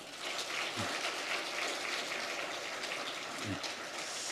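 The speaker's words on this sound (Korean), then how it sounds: "우리 힘내시고 또 승리하시라고 격려의 박수 한번 드리겠습니다." A church congregation gives a round of encouraging applause to a bereaved family at a Sunday service, a soft, distant, even patter of clapping with a couple of low thumps.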